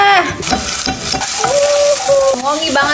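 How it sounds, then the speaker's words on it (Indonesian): Shrimp and mushrooms being stir-fried in a pan with hand-ground garlic, pepper and shallot spice paste, a steady loud sizzle with scraping stirring strokes throughout, no talking. "Masukin udang, jamur lagi, aduk guys"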